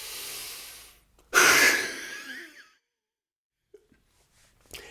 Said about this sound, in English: We're going to take a deep inhale, and then 3 times we are going to force out a long exhale